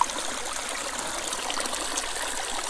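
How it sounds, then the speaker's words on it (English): Hot spring water flowing steadily from a repaired pipe at an Idaho hot tub, a constant close splashing trickle that continues evenly throughout with no voices. "We have water. Nice hot water."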